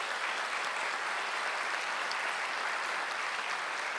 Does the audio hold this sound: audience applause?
yes